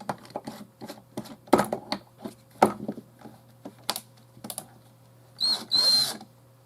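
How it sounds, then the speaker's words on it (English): An electric drill spinning a fishing reel line winder whirs in a few short bursts near the end, after a stretch of scattered clicks and knocks from handling gear. "Put your drill on."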